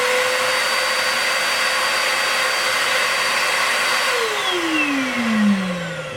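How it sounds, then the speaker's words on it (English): An Eye Vac stationary vacuum roars steadily and loudly as it sucks up chopped hair, its motor pitch sliding downward near the end as it winds down. "See how far it has to go to suck it up"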